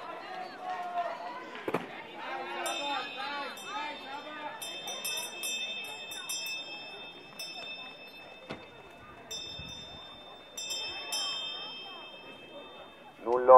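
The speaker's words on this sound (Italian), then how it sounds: "Campana suonata per tutte le atlete di questa serie numero 2 dei metri 800" At a regional athletics meet in Bovolone, a bell rings out repeatedly in bright, clangy strikes for the last lap of a women's 800 m heat, under an announcer's continuous commentary and crowd noise.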